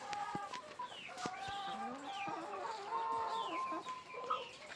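Free-range chickens, including Rhode Island Red, Light Sussex and Black Australorp hens, cluck and call in overlapping bursts at moderate distance, with an occasional rooster-like crow among them and no talking.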